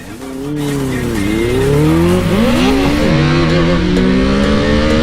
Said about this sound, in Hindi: हम करने वाले हैं RC 390 वर्सेस बेनेली। इनकी होने वाली है भाई ड्रैग रेस। 1 2 3 गो।